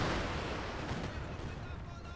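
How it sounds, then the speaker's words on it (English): A dense artillery barrage in the wartime strategy game Company of Heroes 2 rumbles and booms continuously, forming a heavy, loud wash of distant blasts with no clear gaps. "I hear the artillery. It's going in deep."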